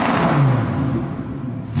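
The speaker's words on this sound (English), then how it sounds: "this is me revving it in sport mode," A Lamborghini Huracan revs in sport mode, a loud close engine roar that swells and holds steady through the short burst, with no talking.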